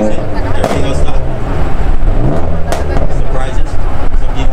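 A BMW with a VRS FPL exhaust runs loudly close by, its engine rumbling and surging while someone talks over it.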